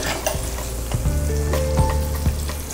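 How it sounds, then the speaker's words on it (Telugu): Onions fry in a pan while cooking paneer makhanwala, a steady loud sizzle with a few soft stirring knocks, with no voices. "నెక్స్ట్ మనం ఉల్లిపాయలు వేయించాలి."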